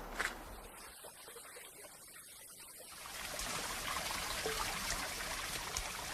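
A steep mountain stream in Kenya flows with a hissing, bubbling wash that starts soft and grows to a steady, fuller rush halfway through, with no voices.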